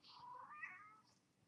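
A single soft, drawn-out cat meow, faint and fairly close, in an otherwise quiet room.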